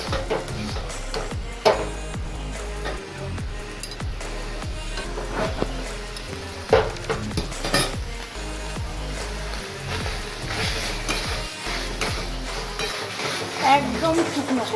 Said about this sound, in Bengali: ভালো করে নাড়িয়ে নাড়িয়ে নাড়িয়ে নাড়িয়ে